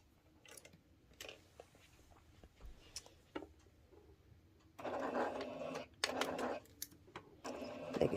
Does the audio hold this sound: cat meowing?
no